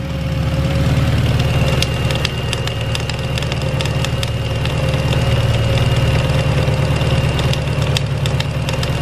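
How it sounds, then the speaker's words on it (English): A Honda Integra engine idles steadily up close, a loud continuous mechanical drone with faint ticking and a slow wavering pulse in its tone, no voices present. "doing a new belt on this car, and it's got an interesting sound."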